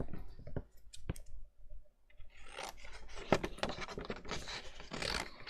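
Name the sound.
fussy cutting a stamped paper image with scissors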